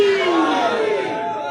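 A crowd at a religious gathering roars back a slogan in unison, one loud sustained shout of many voices that slowly fades.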